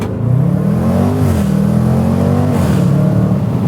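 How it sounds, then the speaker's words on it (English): Exhaust of a 2019 performance SUV, an Alfa Romeo Stelvio Quadrifoglio or Jaguar F-Pace SVR in sport mode with windows cracked, droning loudly and steadily as it accelerates, with pitch rising and settling through the run. "This thing is really so much fun to drive, and the exhaust note never gets old."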